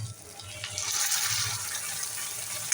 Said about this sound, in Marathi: आता आपण डाळ ओतूया.